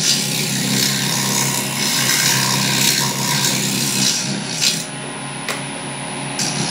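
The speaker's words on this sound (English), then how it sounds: "I've just got the finishing scraper here" Finishing scraper smoothing wood on a lathe, a continuous loud rasping scrape over the spinning workpiece's hum, with a few sharper scratches near the end.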